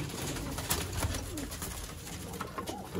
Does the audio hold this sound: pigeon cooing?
yes